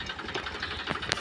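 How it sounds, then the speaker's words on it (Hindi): An approaching tractor's engine runs steadily nearby with a rough, buzzing chug that fills the whole moment, with no voices over it. "यहाँ ट्रैक्टर आ रहा है गाइस"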